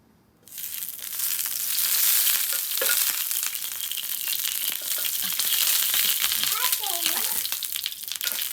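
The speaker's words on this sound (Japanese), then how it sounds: "では早速焼いていきたいと思います" Oil fries on a 200-degree hot plate for Japanese home-cooked takoyaki, a loud steady sizzle starting abruptly and continuing with crackles throughout, with a voice speaking over it.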